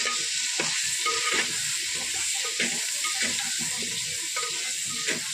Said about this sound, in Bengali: তো প্রথমে আমি আলুগুলো ভেজে নেব।